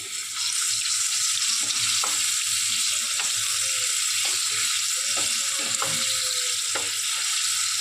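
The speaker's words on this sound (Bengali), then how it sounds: "এভাবে হাই ফ্লেমেই ভাজবেন" Chicken popcorn frying in oil over a high flame, a steady loud hiss and sizzle throughout with scattered small pops and crackles.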